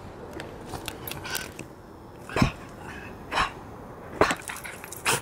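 Nuki the dog gives a few short, sharp barks spaced a couple of seconds apart in a flowery backyard, moderately close over a soft outdoor background hiss.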